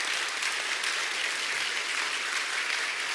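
Sustained applause from a church congregation during a Sunday worship service, steady and dense clapping filling the whole stretch with no talk over it.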